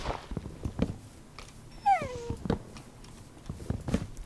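A Minecraft dog whines in a short, high, wavering cry midway through, set among soft game sounds and faint clicks, with no talking over it.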